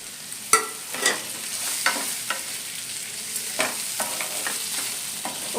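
Small chicken pieces fry in oil in a pan, a steady sizzle broken by repeated scrapes and knocks as they are stirred.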